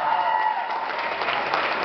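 Audience applause at a live stand-up comedy show in a garden venue, dense steady clapping from a crowd throughout, loud and sustained.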